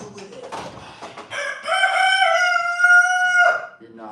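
A rooster crows once, loud and close, a long drawn-out call after a few shorter clucking sounds.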